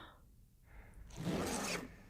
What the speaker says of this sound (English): that's a zipper